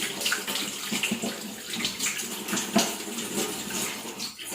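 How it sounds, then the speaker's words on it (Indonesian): Running water pours steadily during a rinse in a vulva hygiene nursing practical, a continuous splashing stream from a tap, close and moderately loud with no voices. "Setelah itu bilas dengan air sampai bersih."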